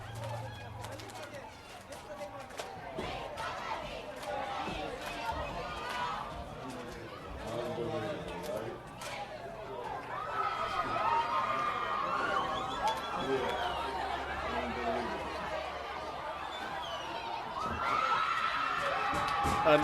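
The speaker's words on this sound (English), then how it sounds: "this crowd is fired up as East gets set to kick off" A stadium crowd at a high school football game between Wilson and East at Centennial Stadium in Rochester, steadily noisy with cheering and chatter, swelling louder in the later half and again near the end.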